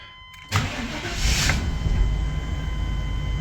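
A van engine cranks briefly and catches, then settles into a steady, fairly loud idle rumble close by.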